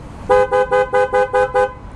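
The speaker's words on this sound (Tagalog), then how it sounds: "dito ko na rin ipaparinig yung loud horn" A loud, harsh aftermarket motorcycle horn honks seven times in quick, even bursts, close by and sounding alone.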